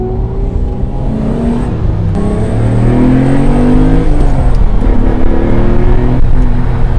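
A Lamborghini with a manual shifter accelerates hard from inside the cabin, its engine a loud, dense roar with rising pitch sweeps that climb, drop at a gear change, then climb again.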